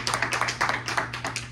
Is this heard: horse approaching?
no